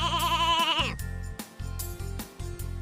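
A sheep on a dairy farm bleats in a long, wavering call, loud and close, followed by a few shorter bleats over a steady low rumble, with no talking.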